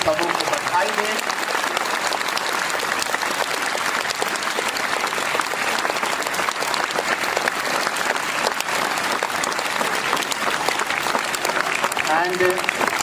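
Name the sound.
audience applause at school Mother's Day celebration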